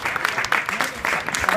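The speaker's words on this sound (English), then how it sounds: "That's probably the applause for the substitutes." Applause ripples through the crowd at a Ross County versus Partick Thistle football match, a moderate wash of clapping with crowd noise and voices talking over it.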